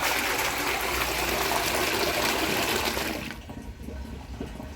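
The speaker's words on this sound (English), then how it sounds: "I just want to show you that I can flush the toilet now without any worries" A toilet that has just had a running-water fault repaired flushes with a loud, steady rush of water that cuts off abruptly and settles into a quieter trickle as the tank refills.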